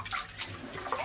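Water swished around a bowl of rice being rinsed, a brief close sloshing and churning of liquid with no voices.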